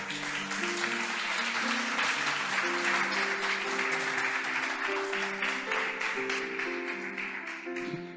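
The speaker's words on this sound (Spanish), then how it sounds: "Aplauda si Dios te hizo libre de algo." Church congregation applauding continuously, dense clapping throughout with sustained tones, likely music, underneath and a slight fade toward the end.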